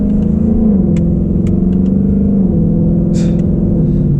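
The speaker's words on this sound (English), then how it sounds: "This thing's just revving" Ford Mustang GT V8 idling and revving in place, a deep steady rumble with gentle rises and falls in pitch, close and loud, with faint clicks over it.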